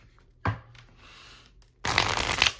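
A deck of tarot cards being shuffled close up: a short riffle burst, a quieter rustle, then a loud sustained riffling flurry of cards near the end.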